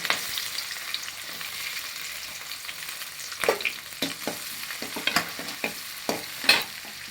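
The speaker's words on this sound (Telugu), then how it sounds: "ఇప్పుడు నూనె వేడెక్కిన తర్వాత మనం తరిగి పెట్టుకున్న ఉల్లిపాయలు పచ్చిమిరపకాయలు వేసుకోవాలి" Chopped onions and green chillies frying in hot oil, with a soft sizzle and several sharp stirring scrapes and clinks that come in bursts near the end, close and fairly quiet, with no voices.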